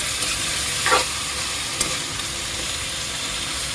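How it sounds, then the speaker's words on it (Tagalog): Food bubbling and sizzling in a pot on the stove, a steady close hiss with a couple of faint clinks from stirring, no talk. "Ayan, kumukulo na."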